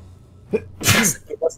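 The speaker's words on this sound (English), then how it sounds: "I need to sneeze." A single sharp human sneeze bursts out mid-clip, close and loud, with brief vocal sounds before and after it.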